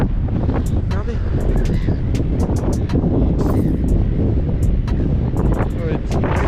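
Strong wind buffets the microphone outdoors on Phillip Island at sunset, a steady loud roar that never lets up, with faint gull calls breaking through now and then.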